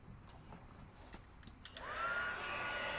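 A heat tool switches on partway through to dry a stamped craft project, going from quiet background to a steady, close whooshing hum that holds to the end.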